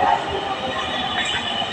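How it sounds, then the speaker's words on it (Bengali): A Dhaka Metrorail train pulls into the platform with a loud, continuous rolling rumble and a hiss of motion, close by and steady for the whole moment. "একটা ট্রেন এসে গেছে"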